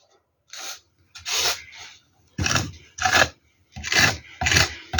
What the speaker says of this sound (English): And while I'm scraping like this, I am blending the colors.